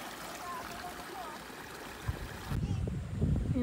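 A mountain stream in the Philippine countryside flows steadily as broad, continuous rushing water, growing louder and closer partway through, with no voices over it.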